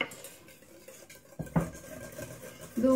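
Eggs, sugar and honey being mixed in a bowl for madeleines, with quiet clinks and scrapes of a utensil against the bowl and a few sharper knocks, fairly close and soft.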